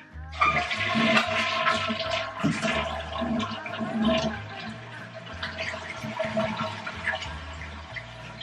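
Water rushes through a toilet just after a home repair, a steady, loud, close gurgling flow that keeps running throughout.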